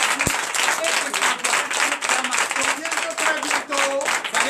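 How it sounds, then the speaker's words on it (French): A church congregation at a Sunday service in Comè, Benin, applauds in a steady, dense wash of clapping that fills the room, with voices and tonal sounds mixed in beneath it. "Donc je vous demande d'applaudir encore."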